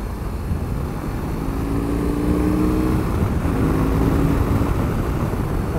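A BMW R18 cruiser motorcycle engine rumbles low and steady with rushing wind noise, the pitch climbing slightly as revs rise, then easing back.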